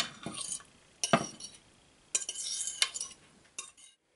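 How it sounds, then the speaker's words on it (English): Utensils stir chopped mango, tomatillo and onion into avocado for a guacamole, making soft scraping clinks and wet mixing in several short bursts close by, with no talking. "So now let's mix it in with the avocado."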